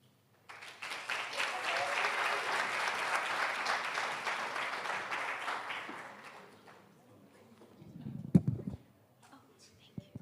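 Audience applause at an honorary lecture, a sustained burst of many hands clapping that swells then tapers off after several seconds, followed by a few scattered sounds and quiet.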